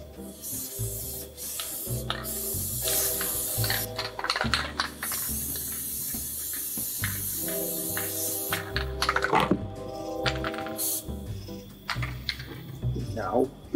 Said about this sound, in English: So I'm basically going to spray the spray adhesive